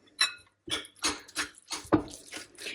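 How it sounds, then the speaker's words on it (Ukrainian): Soft scraping and clinking of a utensil stirring a thick cottage cheese, egg and sour cream filling in a bowl by hand, in short uneven strokes, close by, with no talk. "Все це ретельно перемішую."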